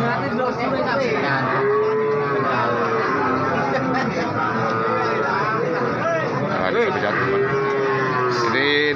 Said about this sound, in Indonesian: Nah, ini sapi-sapi PO.